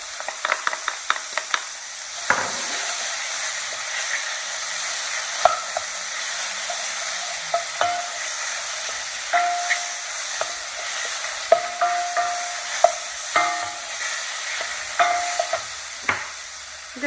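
Garlic sizzles in a pan of creamy mushroom sauce over lowered heat, a steady frying hiss broken by sharp clicks and taps of a utensil stirring and scraping, close and fairly quiet with no talk.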